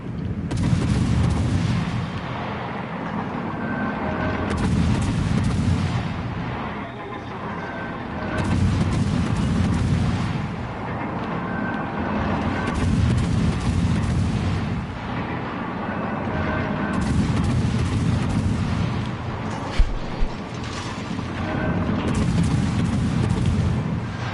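Deep booming blasts and rumbling detonations roll in waves during a World of Warships naval battle, with heavy gunfire pulsing between louder and quieter stretches and a few sharp cracks near the end.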